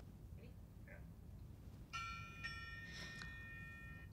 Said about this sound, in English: the gong that you hit once you want to celebrate such an accomplishment